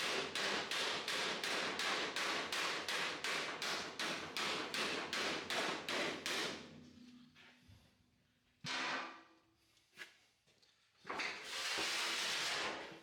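Rapid, steady tapping of a mallet on sheet metal held in a brake, about a dozen even blows, followed by quieter scattered knocks and a short hissing rush.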